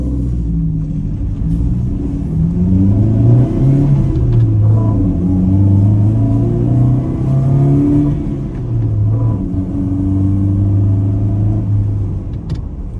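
A Piaggio Porter NP6 utility van accelerates, its small engine rumbling loudly and close, with the pitch climbing in smooth waves as it revs through the gears over about thirteen seconds.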